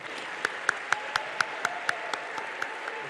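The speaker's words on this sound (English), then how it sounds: "one last round of applause for these amazing people." Scattered applause from a crowd at a college commencement ceremony, with a slow, steady series of sharper individual claps standing out over the steady patter.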